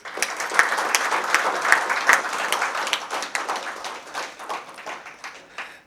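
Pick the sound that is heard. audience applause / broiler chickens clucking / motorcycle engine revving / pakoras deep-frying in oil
audience applause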